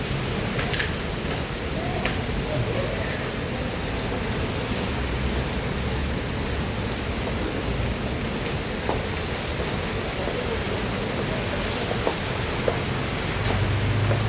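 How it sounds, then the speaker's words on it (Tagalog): Steady, dense rain hissing continuously throughout, heavy and unbroken, with occasional faint drips and taps standing out. "Medyo may kalakasan yung ulan dito."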